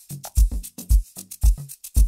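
Amapiano drums layered with shakers in FL Studio: booming kicks and log-drum hits under bright, hissing shaker strokes in a quick, bouncing syncopated rhythm, short and loud.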